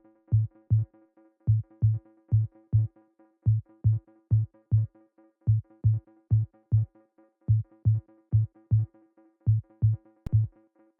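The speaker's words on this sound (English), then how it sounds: "So we have the tom over here" A tom drum in an Afro House track plays a dry, pitched pattern of short low hits in quick pairs and triplets, repeating steadily and alone with nothing else around it.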